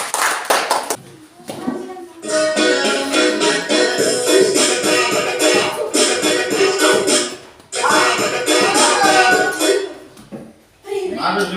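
A classroom of students claps hands rapidly in long, dense bursts of sharp overlapping claps, loud and close, pausing briefly before starting again, with children's voices mixed in.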